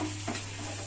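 Ingredients for kara dosai are lightly sautéed in a pan, giving a brief, quiet soft sizzle with a faint stirring scrape.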